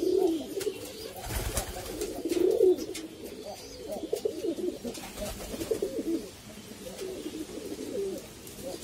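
Pigeons coo repeatedly inside their loft, soft low rolling calls from several birds close by, with wing flutters and light knocks between the calls.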